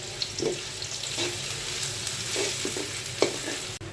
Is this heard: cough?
no